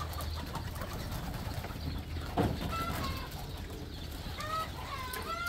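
Racing pigeons of the black widow strain coo and murmur in a loft, close by, with soft cooing calls and a brief flutter amid low background rumble.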